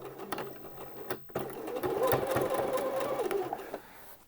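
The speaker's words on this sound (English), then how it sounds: "just sew in between that seam" A sewing machine runs in one quick burst, stitching along a seam on Thai wrap trousers, close and clear after a brief pause and a few clicks at the start.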